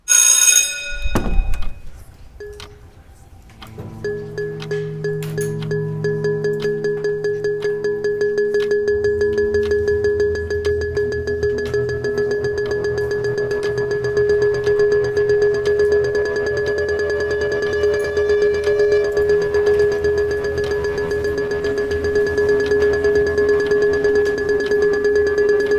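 Sonified school discipline rate for Black students from the start of the school year through Thanksgiving break, played as sustained repeating electronic tones with a steady drone and rising, ringing pitches over about 25 seconds.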